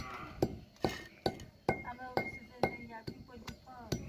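Homemade sweet fishing bait being crushed on a grinding stone, a close series of sharp knocks and clinks at a steady beat of roughly two per second.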